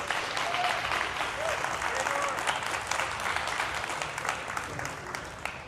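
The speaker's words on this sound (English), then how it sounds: "Round of applause, please." An audience at a livestreamed tablet showcase event applauds as a guest is welcomed on stage, giving a sustained, moderately loud wash of clapping with a faint murmur underneath that eases slightly toward the end.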